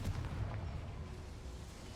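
A fiery Confringo spell blast in a Harry Potter video game: a low, rumbling boom that is loudest at the start and then rolls on as a steady, muffled roar without a sharp crack.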